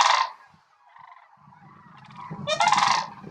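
A flock of sandhill cranes gives loud, resonant bugling calls, low and rich from their long coiled windpipes; a strong call opens, softer calls murmur through the middle, and another loud burst of bugling rises near the end.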